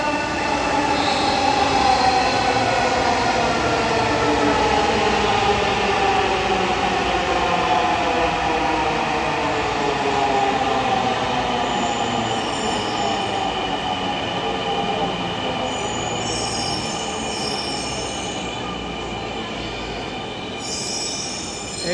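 A Dhaka metro rail train pulls into a station, its wheels squealing and a long rising and falling whine dominating, loud and close, with a faint faraway voice briefly underneath.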